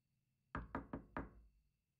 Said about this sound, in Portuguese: ela ouviu alguém batendo alto na porta dos fundos da casa